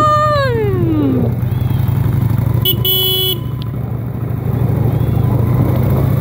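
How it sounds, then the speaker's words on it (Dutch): A motorcycle ridden with a passenger on the back through Simmer in Friesland drones loudly and steadily up close, with a passing vehicle's falling pitch and a brief horn toot midway. "we gaan even bij Wieke achter op een motor"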